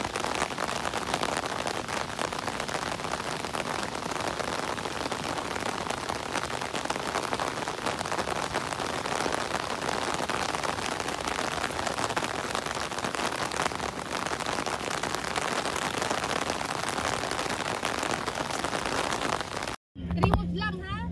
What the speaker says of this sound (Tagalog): Kaya lang lakas ng ulan.